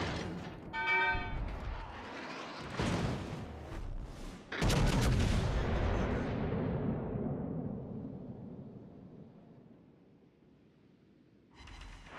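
A naval gun salvo fired at the Suzuya in a warship video game lands as a series of heavy booming blasts, the largest one loud and close, followed by a long rumbling decay that fades before another shot begins.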